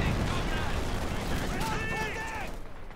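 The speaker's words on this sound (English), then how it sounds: "this range Katyusha barrage" A Katyusha rocket barrage in Company of Heroes 2 makes a dense, continuous roar of crackling blasts, with a voice talking over it.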